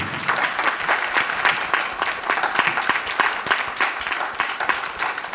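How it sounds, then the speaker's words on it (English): An audience at a reading event by women writers claps in sustained, dense applause with no talk over it, steady and fairly loud throughout. "Can we get a round of applause for all of our amazing leaders?"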